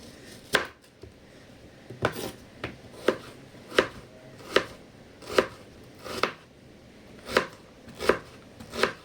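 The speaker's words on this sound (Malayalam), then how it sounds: "ആ കഴുകിയെടുത്ത സവാള മുറിക്കുകയാണ്. നല്ല അടിപൊളി മൂർച്ചുള്ള കത്തി." A sharp knife chops a washed onion on a board in steady, fairly even strokes, about a dozen crisp close thuds spaced under a second apart over a quiet room; no talking.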